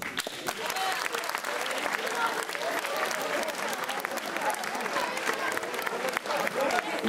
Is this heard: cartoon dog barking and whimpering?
no